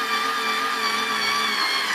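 A Daewoo 3.6 V lithium cordless screwdriver drives screws with a steady, continuous motor whine that holds close and even throughout, with no talking over it.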